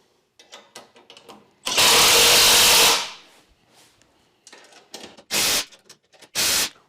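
A power tool drives bolts into the frame of a DWC2440 CNC machine, with one loud, close whirring burst of about a second followed by two shorter spins, separated by quieter handling noises.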